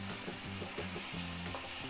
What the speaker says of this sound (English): we're going to add about 3 tablespoons of butter. And I started with, did I say how much breadcrumbs? I added 1/4 cup of the breadcrumbs. And see how they keep browning.